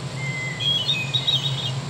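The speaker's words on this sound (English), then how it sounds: "hermit thrush" Recorded hermit thrush song played from a Wild Republic Audubon plush bird: a few thin, high whistled phrases rising and wavering over a steady low electronic hum, fairly quiet and with no talking.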